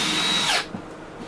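Power drill driving self-tapping screws into a Sprinter van wall, a close high whine that ramps up and cuts off sharply partway through, leaving quiet room tone.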